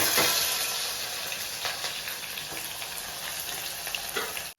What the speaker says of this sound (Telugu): నేను గిన్నె పెట్టుకున్నాను దానికి తాలింపు వేస్తున్నాను